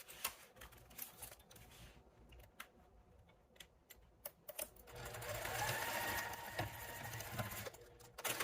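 A sewing machine stitches a fabric Bible carrier, with quiet short ticking bursts at first, then a steady, louder run of fast stitching in the second half, heard close with no talking.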